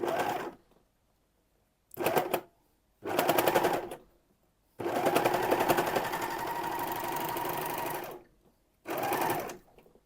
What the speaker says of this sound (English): when you're using your overlocker